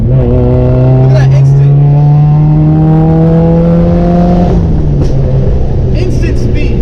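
Subaru WRX/STI pulling hard under acceleration, a loud close engine note climbing steadily in pitch for several seconds before easing off, with voices talking over it.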